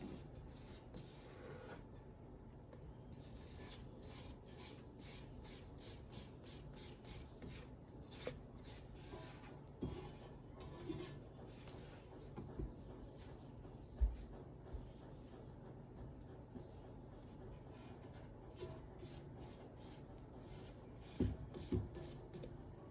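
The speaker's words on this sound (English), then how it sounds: "Scrape down the sides." A spatula scrapes down the sides of a bowl of cream cheese cookie dough, with faint repeated rubbing strokes in an irregular rhythm, soft and close with occasional small knocks.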